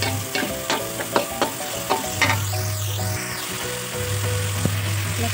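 Carrots sizzling in a hot pan for soto ayam, a steady close frying crackle with occasional clicks of stirring and a low hum underneath.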